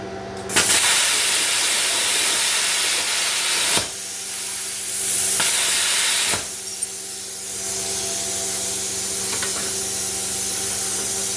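An ArcCaptain Cut55 plasma cutter slices through a hardened steel Sawzall blade, giving a loud, continuous rushing hiss that briefly cuts off and restarts, close by with no talking.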